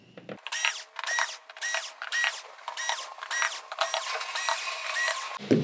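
Screws coming out of the chassis of a Sony XBR-65A8F TV, heard as a run of short, close whirring bursts with a ratcheting edge, repeated roughly every half second with no voices.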